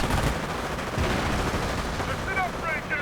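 Rapid submachine gun bursts and heavy bazooka fire from a WWII strategy video game crackle in a dense, continuous volley of battle noise, with a few short high whistling tones near the end.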